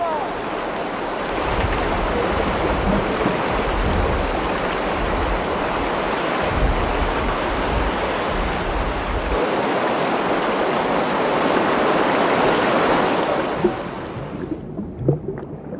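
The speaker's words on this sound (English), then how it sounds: "On the Upper Jordan, whitewater rafting is a popular pastime, largely because it's cool and wet." Whitewater rapids roar along the Upper Jordan River in a dense, constant rush of water. Near the end the flow drops away into quieter trickles and splashes.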